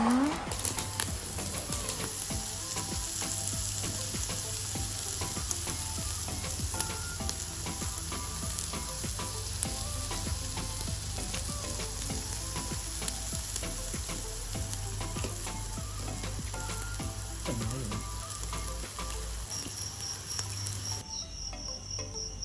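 Continuous loud sizzling of Thai barbecue pork (moo kata) on a hot grill pan at night in the mountains, a steady crackling hiss with crickets chirping faintly in the background.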